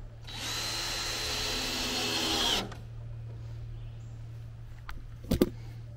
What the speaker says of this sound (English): Putting these last screws in.